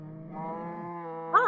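A single drawn-out cow moo from the game Minecraft, low and steady at first and then rising into a brighter, wavering call at the end, loud and close with no talk over it.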